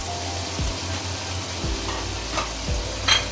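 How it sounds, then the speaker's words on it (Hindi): Taro and eggplant frying in a pan, with a steady sizzle under repeated scraping and stirring strokes, close and fairly loud. "अब इसको बैंगन के साथ अच्छे तरीके से भून लें।"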